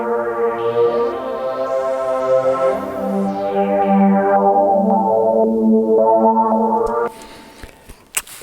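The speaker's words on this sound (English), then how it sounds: "You can hear the LFO kicking" Audio runs through a Behringer Model D analog synth used as an external processor, giving sustained filtered tones with a slow LFO sweeping the pitch and brightness up and down, loud and continuous before cutting to quiet clicks near the end.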